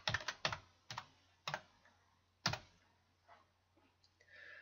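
An admin name and password tapped out on a computer keyboard, a few quick clustered keystrokes followed by sparser, fainter clicks in a quiet room.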